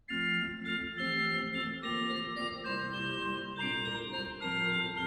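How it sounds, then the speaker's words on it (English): Bovenkerk Kampen pipe organ in the Netherlands playing a high 1-foot stop combined with the 8-foot flute, sustained bright chords with shifting notes, steady and full, alone without voices. "You could always combine it with the 8-foot flute"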